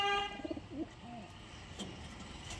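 Soft pigeon coos rise and fall a few times early on, faint and close, in a pigeon loft, followed by quiet background noise with occasional small clicks.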